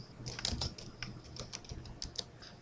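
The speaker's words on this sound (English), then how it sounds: "When I'm finished typing the input message" Keys on a computer keyboard are typed in a steady, close stream of light clicks and taps with no voices.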